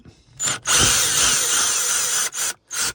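A power driver with a T20 Torx bit loosens a screw inside a Dodge Charger: a few short whirring bursts, then a longer steady high whine and two more brief spins, close and loud.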